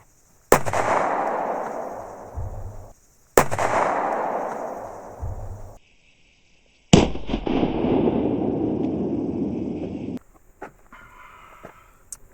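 Three sharp, loud pistol shots of Polycase ARX .45 ACP rounds fired through wallboard, each with a sudden crack and a long decaying echo, separated by quiet gaps. A few faint clicks and handling sounds follow.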